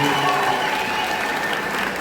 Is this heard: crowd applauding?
yes